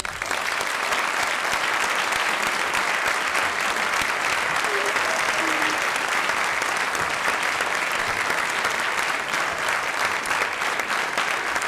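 A live audience at a singing event claps loudly and continuously to vote for a song, a steady wall of applause filling the whole stretch without pause.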